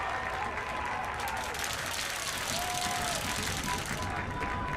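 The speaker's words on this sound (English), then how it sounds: "the ratchet and claps, as they say" At a high school varsity soccer match between Salesianum and Tower Hill, fans clap steadily and a ratchet noisemaker rattles, a dense crowd roar with voices mixed in throughout.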